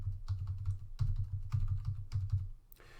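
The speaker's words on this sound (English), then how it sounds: "Right now I'm moving the object up and down using the keys." Arrow keys on a computer keyboard are tapped repeatedly while an object is moved on screen, a run of close, crisp clicks arriving in small irregular clusters with no talk.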